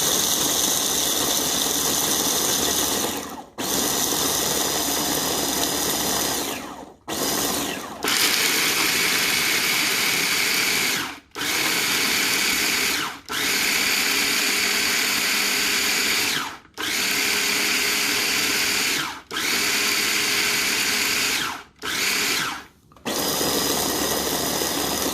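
A KitchenAid 3.5 cup electric food chopper (model KFC3516ER) whirs loudly in a series of pulsed bursts, several seconds each, separated by brief silent pauses, with no talking.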